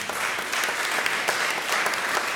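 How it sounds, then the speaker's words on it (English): Conference audience applauding steadily throughout, dense clapping from a crowd without pauses. "Can we have a big round of applause?"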